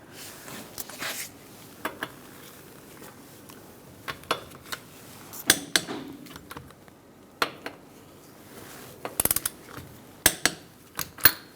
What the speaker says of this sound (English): Using a 21mm socket, we're going to torque our lug nuts to 76 foot-pounds.